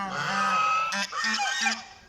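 A swan near a church gives a few loud, nasal honking calls in quick succession, close and clear with no talk.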